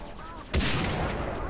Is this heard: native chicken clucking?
no